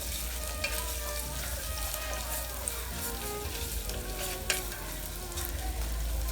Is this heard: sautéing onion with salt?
yes